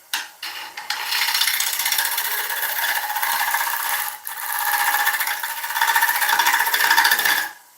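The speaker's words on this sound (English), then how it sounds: "Now what you'll see me doing during this live is sharpening, because ash, certain blunts tools very quickly" A woodturning tool is ground on a sharpening wheel during work on an ash bowl, giving a loud, continuous abrasive rasping and scraping with brief breaks between strokes.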